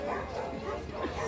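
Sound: dog barking at a dog market

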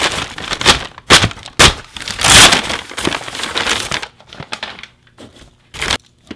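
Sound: handling and opening a large envelope

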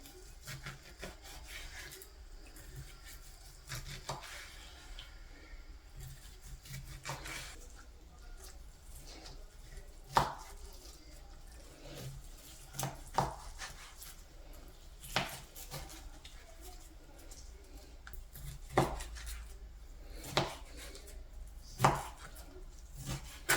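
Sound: chopping bacon into small cubes

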